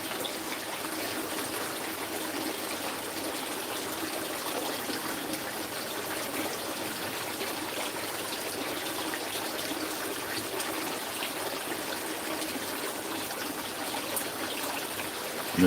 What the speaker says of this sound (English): you lot listen to the water and whatnot